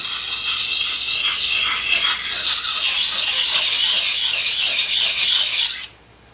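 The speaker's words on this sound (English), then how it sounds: "You're not trying to grind it, you're honing it." Knife blade honed with long steady strokes, a loud continuous bright rasping scrape up close that stops abruptly near the end.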